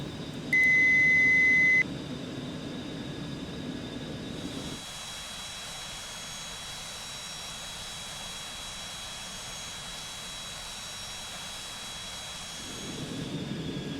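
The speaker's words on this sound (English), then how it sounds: "I will actually go ahead and disengage the autopilot" A Cessna Citation Mustang autopilot disengage alert in the X-Plane 11 flight simulator, a single loud steady beep tone of about a second over a low continuous jet engine drone inside the cockpit, with the engine hum carrying on afterward and no speech.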